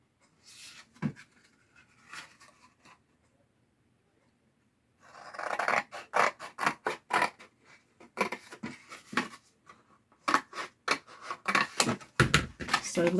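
Scissors cutting through food packaging for a junk journal, a few sparse snips, a pause, then a dense run of quick crisp snipping and rustling of the material, close and dry.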